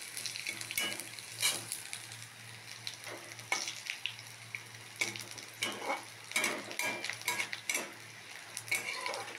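Cumin and crushed ginger sizzle in hot oil for a Bengali taro leaf dish, a steady crackling fry broken by sharp clinks and scrapes of a spatula against the pan, close and without voices.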